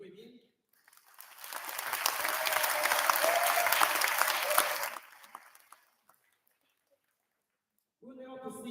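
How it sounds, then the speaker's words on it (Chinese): Audience applause welcomes guests at the opening ceremony of a Taiwanese chamber of commerce convention in Sydney; sustained loud clapping swells for about three seconds, then fades, and a voice starts up near the end. "让我们再次以热烈的掌声欢迎所有莅临的贵宾"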